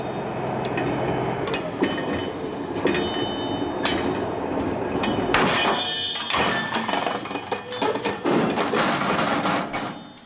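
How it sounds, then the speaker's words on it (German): Rail control car undergoing a buffer collision test at up to 10 km/h, with repeated loud metallic thunks and clanks from the coupling and buffers over ongoing rolling rumble, building to heavier impacts midway. "Dazu gehören auch sogenannte Auflaufversuche und das mit bis zu 10 Stundenkilometern."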